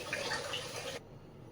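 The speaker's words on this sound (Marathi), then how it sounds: "याचं पाणी फेकून द्यायचं" Rinse water is poured off washed lentils (dal) in a home kitchen, a steady close splashing rush that stops abruptly after about a second, leaving only faint background noise.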